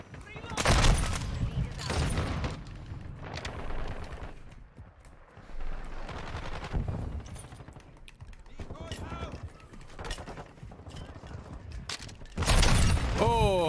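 Shotgun blasts in Call of Duty: Modern Warfare 2, heavy booming shots spaced irregularly between stretches of quieter mechanical clatter, with a voice talking at points.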